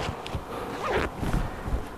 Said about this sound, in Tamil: ஜிப்பு குவாலிட்டி சூப்பராக இருக்குங்க இந்த மாதிரி ஃபஸ்ட் க்ளோஸான ஜிப்பு வச்சுருக்கு